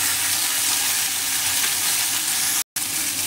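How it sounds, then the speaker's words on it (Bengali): Chopped mango pieces fry in a pan for a sweet-and-sour mango chutney while being stirred, giving a loud, continuous sizzle with one brief dropout near the end. "আমগুলো একটু ভালো করে নেড়ে চেড়ে ভেজে নেব।"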